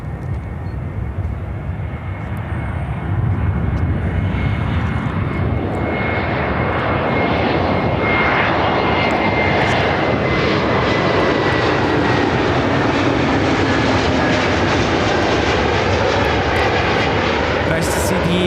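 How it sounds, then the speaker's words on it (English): A United Airlines Airbus A321neo arriving from Las Vegas lands at Chicago O'Hare, its engine roar building and holding loud and close, with a commentator's voice talking over it. "United Airlines 1006 coming in from Las Vegas on a brand new Airbus 321 Neo"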